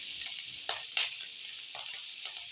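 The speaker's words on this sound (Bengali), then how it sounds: "চিংড়ি মাছ ভাজা হচ্ছে," Prawns fry in a pan for a bottle gourd and prawn dish, making a soft, steady sizzle with a few brief spatters and stirring taps, quiet overall.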